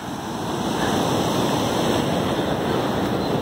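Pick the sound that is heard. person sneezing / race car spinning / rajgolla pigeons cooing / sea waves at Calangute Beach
sea waves at Calangute Beach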